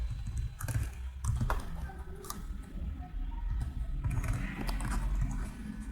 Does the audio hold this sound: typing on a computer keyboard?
yes